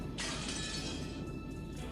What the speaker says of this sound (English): Glass smashed with that violent sound, and the frame groaned and creaked.